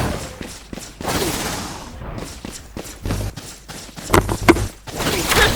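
Gunfire in the video game Valorant, with bursts of rapid shots and sharp single reports coming in clusters, loud and close, separated by brief gaps with thuds and footsteps.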